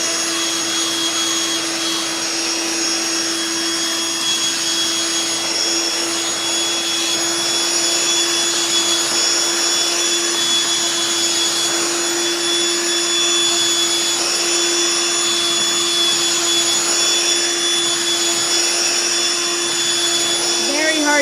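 A Eureka Boss stick vacuum cleaner runs continuously while being pushed over carpet and hard floor, giving a steady, loud motor whine with a constant airflow hiss throughout.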